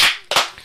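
Two sharp hand claps, close and loud, the first striking at the start and the second following about a third of a second later, with nothing else around them.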